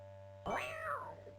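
A cat in the King's Quest V video game gives a single clear, drawn-out meow over a steady background hum from the game.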